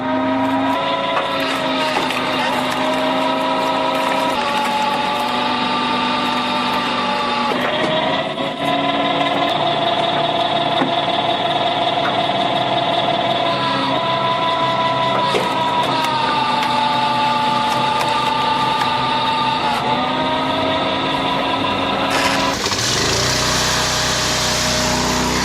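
A homemade 30-ton horizontal hydraulic log splitter runs continuously while splitting logs, its engine a loud, steady, close whine with slight shifts in pitch and no voices.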